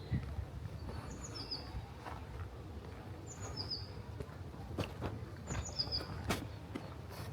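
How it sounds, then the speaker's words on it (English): Birds sing in the woods, faint and distant: short high chirps and whistled phrases that come back every couple of seconds over a soft outdoor rustle, with occasional light knocks and no voices. "The birds singing."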